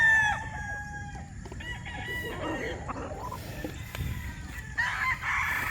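A Boston Black rooster, a stag gamefowl, crows and clucks nearby among other fowl, with repeated calls and scattered clucking over a busy farmyard background.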